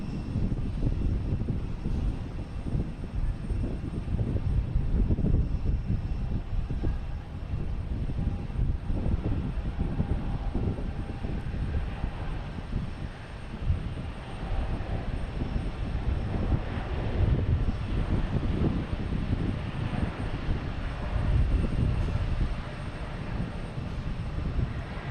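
Japan Airlines airliner taking off from Boston Logan, a steady, broad engine roar with rumbling low end and some wind buffeting on the microphone, sustained and fairly loud throughout, no talk.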